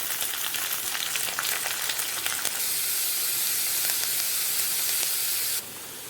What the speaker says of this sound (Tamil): இப்போ வெங்காயத்தை போட்டு வெங்காயத்தையும் கருவேப்பிலையும் போட்டு நம்ம தாளிக்க போகிறோம்.